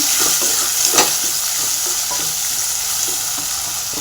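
Turmeric being stirred into a sizzling tempering in a pan for homemade avalakki oggarane, a steady close hiss with soft scraping strokes and one sharper knock of the spoon, no voices.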